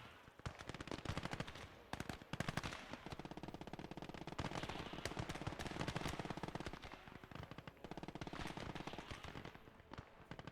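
Rapid machine gun fire from the video game Gates of Hell in a ranked PvP match: dense, loud, continuous bursts of gunfire rattling almost without pause, layered with scattered shots and battle noise.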